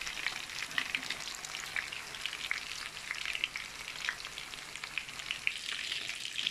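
Fish frikkedelle fry in a pan of oil with a steady crackling sizzle full of small rapid pops, close and even throughout, with no talking.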